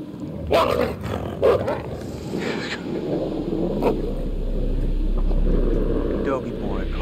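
A dog barks and growls in the Until Dawn video game, several loud sharp barks up close early on, then a steady low rumble of game ambience underneath.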